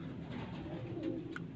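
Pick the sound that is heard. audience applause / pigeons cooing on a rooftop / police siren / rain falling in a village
pigeons cooing on a rooftop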